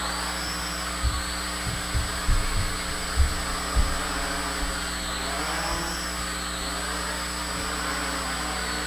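Steady high-pitched motor whine of a small JJRC H12C toy quadcopter drone, continuous and fairly loud, with pitch swelling and dipping as it maneuvers, plus a few low thumps.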